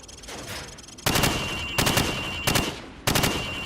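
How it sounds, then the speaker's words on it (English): Rifle fired from the hip in Call of Duty, four loud bursts of rapid automatic shots, each burst about half a second to a second long with short gaps between, close and clear with no talk. "Now, shoot at the targets while firing from the hip."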